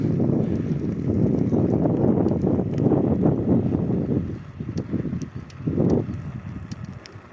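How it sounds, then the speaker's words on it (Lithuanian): Gusty wind buffets the microphone in a continuous rumbling roar, swelling and easing in waves, with faint clicks and rattles on top. "Vėjas pučia į nugarą."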